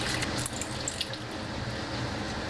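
Bagged pickled cabbage rinsed under a running kitchen tap: a steady, close splashing stream of water pouring continuously, with faint handling noises and no talking.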